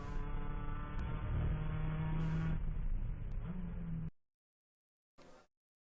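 A race car at a ChampCar endurance race at Virginia International Raceway (VIR) gives a loud, close engine roar with rising and falling revs for about four seconds. It cuts off abruptly, followed by one short burst after a pause.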